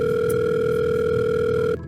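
A telephone call to a liquor store: a steady, loud electronic tone holds for nearly two seconds, then cuts off abruptly, with no voices.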